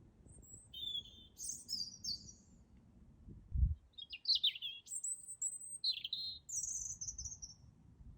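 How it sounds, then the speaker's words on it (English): Several songbirds trade bright chirps and short warbling phrases outdoors on a gloomy November morning, fairly faint and spaced apart over a low background rumble with one brief thump. "The birds are singing."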